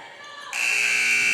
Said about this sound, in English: She'll throw it away as the buzzer sounds